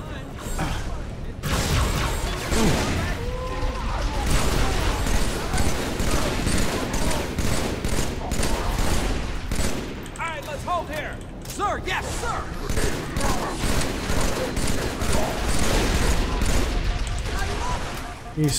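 Brute Shot grenade launcher fire in Halo 3 sounds as repeated heavy shots and blasts within dense, continuous combat noise with mechanical clanks, while voices come and go throughout.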